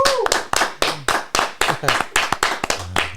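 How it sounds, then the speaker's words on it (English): A small group in a podcast studio gives a quick round of applause, a short run of distinct, fairly close claps with talking mixed in between them. "Give a round of applause to Bree real quick, man"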